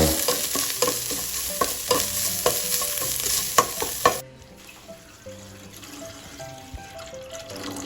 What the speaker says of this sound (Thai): ใส่น้ำมันลงไปในหม้อนิดหน่อย เราจะเอาสามเกลือมาผัด ผัดให้หอมก่อน